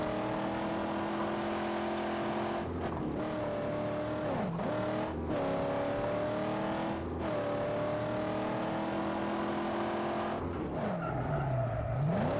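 Car in the Mad Max video game revving and sliding through handbrake skids, with tire squeal rising and falling over a continuous loud engine drone, several sharp skid swoops spread across the stretch, no talking.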